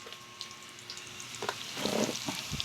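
Garlic, onion and tomato sautéing in a pan, a quiet, close sizzle broken by brief stirring clatters and scraping toward the end.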